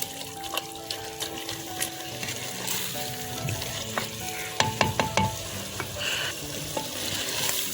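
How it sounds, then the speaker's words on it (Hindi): Mutton with salt and turmeric is stirred and fried in ghee in a village-style kitchen. A constant close sizzle runs under scattered scraping and clinking from the spoon against the pot, with no voices. "अब इनको अच्छी तरह से मिक्स करेंगे और फिर घी छोड़ने तक भूनेंगे"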